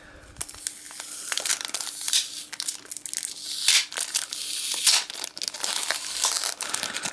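Adhesive tape peeled and torn off a Pokémon card duopack box, a close, crinkly run of ripping and crackling plastic-wrap noises with sharp snaps, continuing without a break for several seconds.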